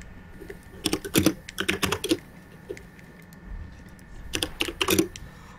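Loud, clattering keystrokes on a computer keyboard in quick bursts, with pauses between flurries, close up and alone.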